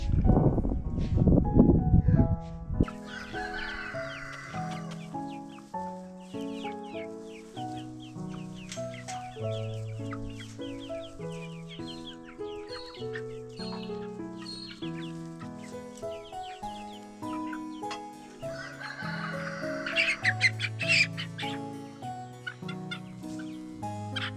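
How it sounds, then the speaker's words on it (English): A Rhode Island Red hen on a small homestead clucks softly in short scattered calls, faint beneath steady background music that runs throughout. "Have a look at this beautiful little Rhode Island red. Now I'm pretty certain this is a hen."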